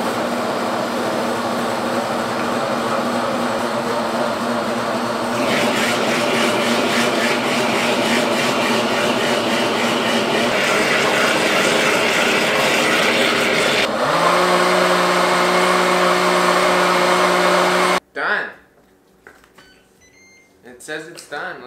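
A blender whirs loudly and steadily through a keto pudding mixture, its motor pitch shifting partway as the blend thickens, then cutting off abruptly near the end, leaving a quiet room.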